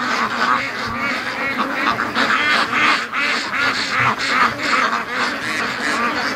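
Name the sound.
ducks quacking in pen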